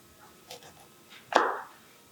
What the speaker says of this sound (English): So put the tip of the knife down, like this here, go straight down, and then just follow through.